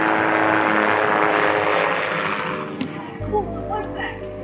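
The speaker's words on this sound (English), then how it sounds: "you just got these little helicopters and jets that take off from this neighborhood over here" Small jets or helicopters take off from a neighborhood airport, giving a loud, continuous engine drone that dominates throughout, with a voice audible beneath it.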